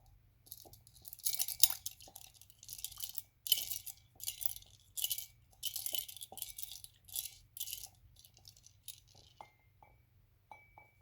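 An old clothespin stirring screws in a cleaning solution, giving repeated bright clinks and rattles in irregular bursts, close and fairly quiet against a low steady hum.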